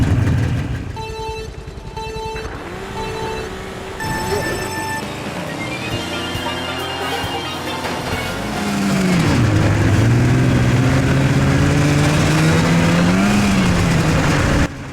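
Snowmobile engine on the frozen Päijänne Lake in Finland, droning loud and close and rising in pitch as it accelerates, with someone talking over it early on.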